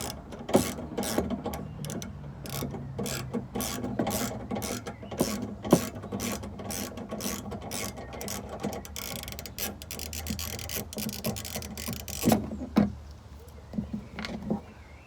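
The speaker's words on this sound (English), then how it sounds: "so he's taking the 2 screws out" Rapid ratcheting clicks and small metallic ticks come from a tool backing out two screws on the rear wiper of a Vauxhall Corsa VXR, sounding close, busy and fairly quiet, with a few sharper knocks near the end.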